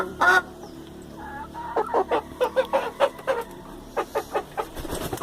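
Hens in a backyard aviary cluck in a quick run of short, rhythmic calls close by, after an opening squawk, with low background hum.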